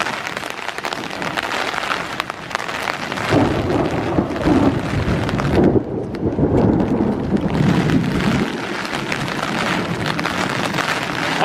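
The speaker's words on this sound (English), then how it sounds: "Hearing a lot of thunder." Thunder rolling during a morning thunderstorm at Iroquois Park, a long low rumble swelling and fading beneath steady rain and gusty wind noise on the microphone, with no talking.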